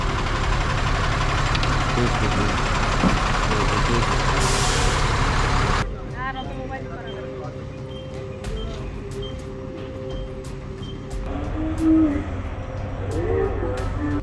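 A loud 14-tyre lorry engine rumbles on a hairpin curve, followed by a sharp hiss of air brakes releasing, then idling with faint higher beeps and squeaks.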